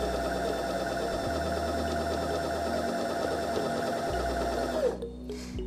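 A sewing machine fitted with a denim needle stitches thick denim fabric in a steady, fast mechanical whir with a slight dip in pace partway through, then stops abruptly near the end.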